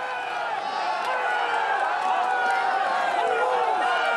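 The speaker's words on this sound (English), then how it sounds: "The crowd are going absolutely crazy at the side of this track today." Spectators at a UCI Cyclo-cross World Cup race in Gavere, Belgium, make a dense, steady roar of cheering and shouting from the side of the track, with a commentator speaking over it.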